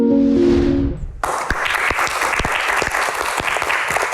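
Audience applause for guest stars at an Indonesian televised panel event, bursting in loud and dense after a brief tonal intro, then sustained steady clapping from a large crowd.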